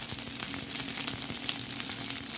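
Fried rice sizzling and crackling steadily in a hot pan while being stirred, with soft scraping strokes at an even pace, close and alone.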